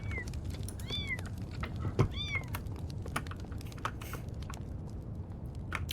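Kittens in a cat care video game meow several times, high-pitched chirpy calls in two quick clusters near the start, over soft keyboard clicks and faint background patter.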